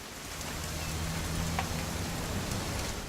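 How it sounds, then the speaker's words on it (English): Continuous rainfall in the video game What Remains of Edith Finch, a dense, steady wash of drops on surfaces with a low rumbling undertone and no voices. "It's gonna rain the whole weekend,"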